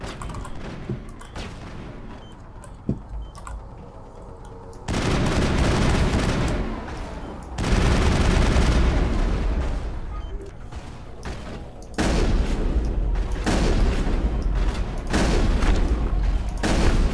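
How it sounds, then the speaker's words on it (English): Rapid gunfire and heavy shotgun blasts fill combat in the video game Mass Effect 1, with loud, dense bursts and booming volleys continuing almost nonstop. "this shotgun does absolutely no damage"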